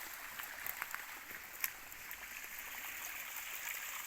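A forest stream flows through a steep river valley, a soft, steady trickling and gurgling of water heard quietly and fairly close, with a few faint splashes and no voices.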